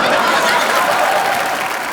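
Studio audience on an Indian TV comedy show applauding loudly in a dense, sustained wash of clapping, with faint chuckles mixed in.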